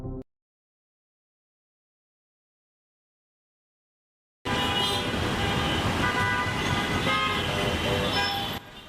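Busy street traffic in Dhaka, Bangladesh, with car horns tooting repeatedly over a steady roar of engines and vehicles; a brief blip opens before a silent gap, then the dense, loud traffic bursts in and continues.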